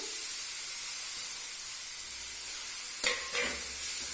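Ginger, onion and garlic frying together in a pan of hot oil for an egg curry, giving a steady soft sizzle with one brief louder spatter as something is stirred or added.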